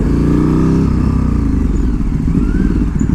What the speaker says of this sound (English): when it comes to the slow speed kind of stuff, the KTM really doesn't like it too much. It kind of chutters a lot.